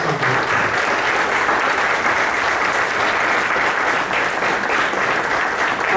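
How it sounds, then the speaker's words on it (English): An audience at a digital transformation conference applauds in dense, sustained clapping that fills the whole stretch at a steady, loud level. "A huge round of applause."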